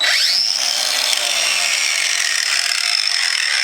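A cordless angle grinder powered by a Craftsman 4Ah battery runs steadily at high speed, giving a loud, continuous whine close by and holding an even level throughout.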